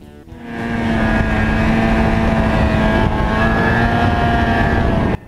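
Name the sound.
1995 Ski-Doo Formula SS 670 snowmobile riding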